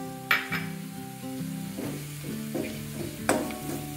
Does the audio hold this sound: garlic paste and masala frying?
yes